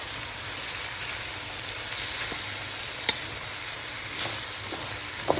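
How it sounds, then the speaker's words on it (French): Mixed bell peppers of three kinds sizzle in a frying pan while being stirred, a steady close crackle with occasional soft clicks of the utensil against the pan. "j'ai rajouté les 3 types de poivrons et je vais mélanger"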